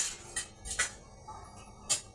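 Khichdi stirred in a pot, a handful of brief scraping and clinking strokes of a spoon against the metal, spaced irregularly and fairly quiet.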